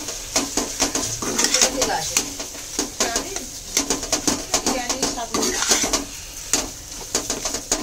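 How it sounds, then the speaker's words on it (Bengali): Boiled potato being mixed into chicken in a bowl for chicken cheese balls, heard as rhythmic, close-up bursts of stirring and scraping that repeat in quick clusters, with a voice talking over them. "এবার এটার সঙ্গে এটা ভালো করে মিশিয়ে দেবো।"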